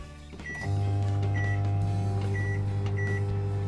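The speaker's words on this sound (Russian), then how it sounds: "Мы открываем микроволновочку засовываем вот эту штуку под названием пицца, закрываем и ставим на 2 минуты." A microwave oven heating a frozen pizza starts with a click and settles into a steady loud hum, with several short beeps sounding at intervals over the drone.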